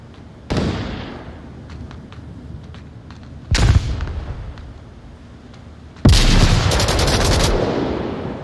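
Gunfire and grenade blasts in the virtual reality shooter game Onward, heard as three loud sharp bursts with scattered smaller shots between, the last a sustained heavy volley, all up close.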